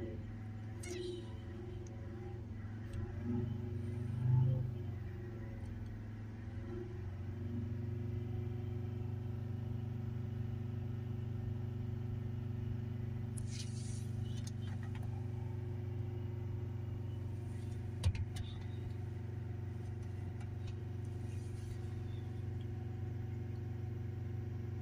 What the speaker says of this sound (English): So if we hold the revs up,